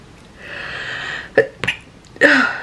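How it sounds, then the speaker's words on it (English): A person sneezes while painting, first a rising breathy inhale, then sharp catches and a forceful sneeze, close and loud in a quiet room. "Oh, I feel a sneeze coming."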